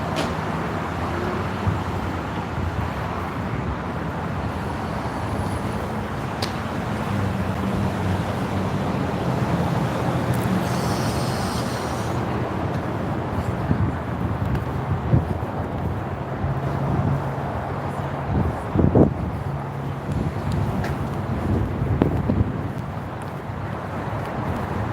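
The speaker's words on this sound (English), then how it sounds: "desiccating wind tonight." Dry wind blows steadily outdoors at night, a broad rushing noise buffeting the microphone, with a few brief knocks and distant sounds mixed in.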